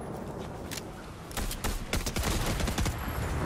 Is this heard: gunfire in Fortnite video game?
yes